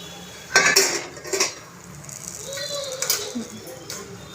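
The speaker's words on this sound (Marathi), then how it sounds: "आता मी वरती झाकण लावून एक 5 मिनटं असंच ह्याला मी शिजायला ठेवते" A metal lid clanks onto a pot of cooking fenugreek (methi) bhaji with dal, giving a couple of sharp close clatters followed by lighter rattles and faint background voices.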